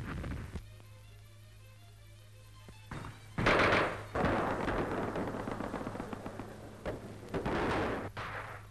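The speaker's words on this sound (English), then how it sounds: "Bullets strike the ground all around him." Gunfire crackles in bursts during World War II street fighting in Paris, archival newsreel sound with several sharp loud volleys and a steady low hum underneath, no voices.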